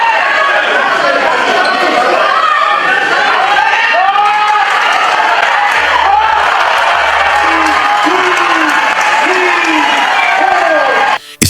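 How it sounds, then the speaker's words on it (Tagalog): Japanese fans at a boxing match in Japan raise a loud, sustained roar of crowd noise with cheering and whoops throughout, punctuated by brief voices and occasional sharp calls, cutting off abruptly at the end. "umalingaw-ngaw ang sigawan ng mga Japanese fans tuwing tumatama ang kanilang pambato"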